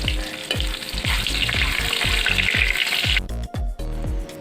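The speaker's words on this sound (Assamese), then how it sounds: "এতিয়া নহৰুখিনি দি অলপমান ভালকৈ ভাজি ল'ম নহৰুখিনি।" Garlic sizzles loudly in hot oil in a pan, broken by a regular series of scraping stirs about every half second, then the sizzle thins and drops away in the final second.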